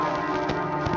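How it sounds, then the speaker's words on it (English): Church bells ring loud and close in a dense, sustained wash of overlapping metallic tones, with strikes renewing the clang throughout the short stretch. "it's too loud with the bells"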